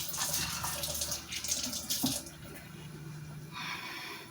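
Tap water runs into a kitchen sink as fresh herbs are rinsed, a close, splashing stream that shifts with handling, dips briefly, then picks back up near the end.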